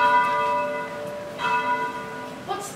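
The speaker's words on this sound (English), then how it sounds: "Ring the bell!" An alarm bell rings out in a castle at night, raised amid shouts of murder and treason; clear ringing tones strike near the start and again midway, sustained and resonant, with no voices over them.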